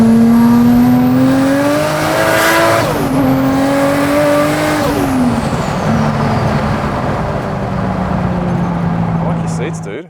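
A Nissan Silvia with an RB26 engine and individual throttle bodies revs hard, its pitch climbing and falling through several pulls, loud and close, with a voice talking over it.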